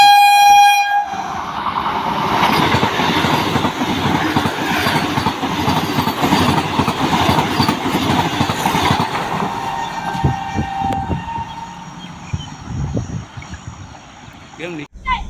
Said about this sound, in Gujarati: જે આગ ઝબકાવતા જ અહીંથી આપણી બાજુમાંથી જે ટ્રેન છે તે પસાર થઈ ગઈ